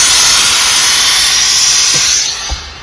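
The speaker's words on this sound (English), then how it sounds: "you want to just steam and shape, and you can put the iron down on this if you really want to." A steam iron hisses in a loud, steady rush while a sleeve is shaped on a pressing ham, the hiss tapering slightly near the end with a couple of soft knocks.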